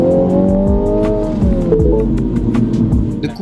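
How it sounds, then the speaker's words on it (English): A 2022 Mini Cooper JCW in sport mode revs loudly nearby, engine pitch sweeping down and up, with sharp popping exhaust crackles and a quick hiss at the end. "Put it in sport mode and you will be giggling your life out by the sound of the crackers and the beautiful of the beautiful blow-off valve."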